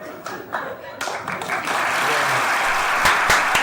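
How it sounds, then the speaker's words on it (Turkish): An audience bursts into applause in a comedy show, scattered claps building into a dense, loud ovation, with voices heard over it. "Ne alkışlıyoruz lan?"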